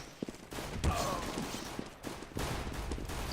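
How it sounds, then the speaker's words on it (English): Grenade blasts and explosive bursts go off in a Counter-Strike knife round, coming as several quick, fairly faint booms and crackles spread over a few seconds of game audio. "Everybody's throwing grenades at each other."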